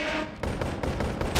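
Gunfire in the VR game BONEWORKS cracks out in a rapid, evenly spaced string of loud shots, close and punchy, with no voices.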